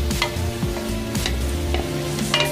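Garlic and onion sizzle in a hot pan for beef kaldereta, a steady close-up frying hiss broken by the scrape of a utensil stirring the pan.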